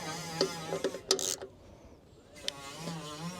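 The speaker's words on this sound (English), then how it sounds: "If you grab your ratchet a little closer, just snug, that's fine." A ratchet snugs the bolts on the hydraulic return filter cover of a Kubota KX033-4 mini excavator, with a few quick, close clicking bursts separated by short pauses and some faint tonal whine underneath.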